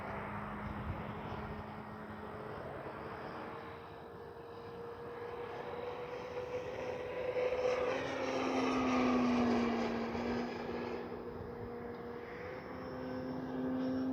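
An E-flite Carbon Z T-28 RC airplane flies at a distance, a faint propeller drone that rises and falls as it passes, with its pitch shifting through the climb and turns.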